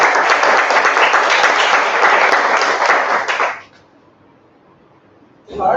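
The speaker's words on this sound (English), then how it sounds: "I would like to clap for them." Audience applause for speakers at a Toastmasters meeting, loud dense clapping that runs for a few seconds then stops abruptly, followed by a brief quiet before another sound starts.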